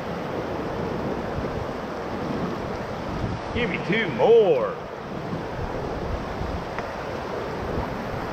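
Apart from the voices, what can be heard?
whitewater rapids on the Middle Ocoee River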